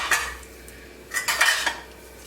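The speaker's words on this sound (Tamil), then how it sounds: "இந்த கிண்ணத்துலேயே கொஞ்சம் தண்ணி ஊற்றி அதையே மிக்ஸ் பண்ணி பார்த்து ஊற்றிக்கணும்" Spoon scraping and clinking against a bowl while karupatti paniyaram batter is mixed with water for Chettinad paniyaram, in short bursts near the start and again mid-clip, close and fairly clear with no talking.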